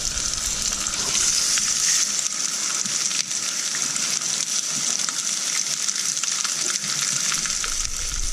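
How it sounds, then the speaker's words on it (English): Steady, loud sizzling of a sous vide chicken breast searing in a hot cast iron pan, a dense crackling hiss that continues unbroken with no talking. "you kind of want to hear that sizzling sound when you put it in there"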